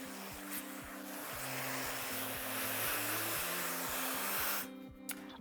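A hair dryer blows steadily through a rough dry of long hair while curtain bangs are styled, a loud, even airy hiss with faint music underneath, cutting off shortly before the end.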